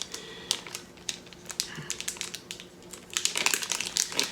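Crinkly plastic wrapper of a tightly sealed trading card pack being torn and pulled open, with irregular bursts of crackling close by that grow denser and louder toward the end.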